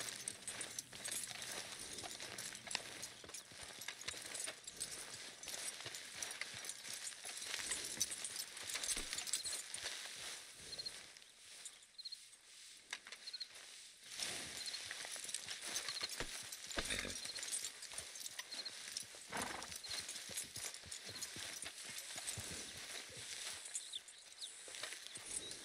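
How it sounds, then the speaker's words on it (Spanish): Horse hooves clip-clop steadily in Red Dead Redemption 2, a continuous patter of footfalls under ambient game sound, moderately close, with a brief lull midway. "El caballo"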